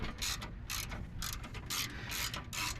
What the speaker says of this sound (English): So we can take both of these bolts out of the back.